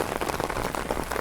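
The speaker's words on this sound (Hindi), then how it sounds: "बारिश की बूंदें भी पड़ रही हैं।" Steady, dense rain drums on an umbrella in a heavy, slanting downpour, loud and close with a continuous crackling patter and no voices.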